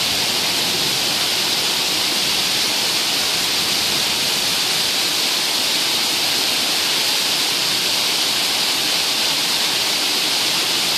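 Heavy rain pouring down with rushing runoff water during a daytime thunderstorm in Fargo, North Dakota, a dense, constant hiss filling the whole stretch without a break.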